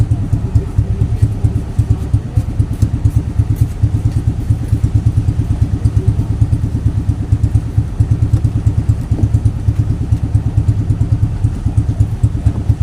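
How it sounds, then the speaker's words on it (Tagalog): A motorcycle engine idles close by, a steady loud chugging with a fast regular rhythm that runs unbroken. "makina ng motor"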